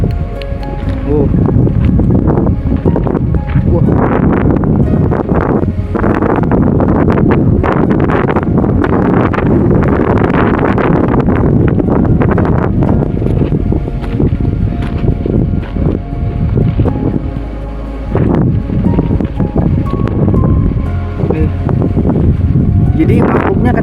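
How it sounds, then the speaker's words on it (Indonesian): Strong wind gusting across the microphone beside a large rock at an outdoor site, a loud continuous roar and buffeting that fills the whole stretch, with people talking over it. "angin kencang banget."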